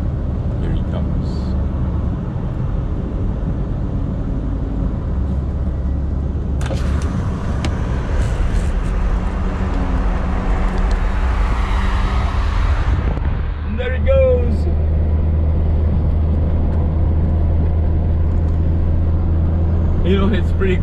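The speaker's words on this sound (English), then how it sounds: "I'm gonna let him overtake." A car overtaking on the road, heard from inside an original 1985 Proton Saga 1.5S as a steady engine and road rumble swells with the passing vehicle's whoosh, while someone talks.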